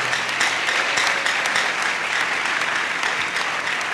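A church congregation bursts into loud, sustained applause and cheering for Jesus, a dense steady wash of clapping that fills the whole stretch without a break.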